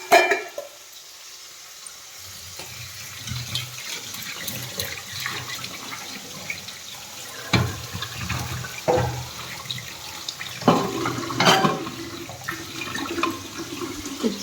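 Tap water running and splashing in a kitchen while sweets are washed, a steady close hiss with irregular clatters and splashes starting after a brief near-silence.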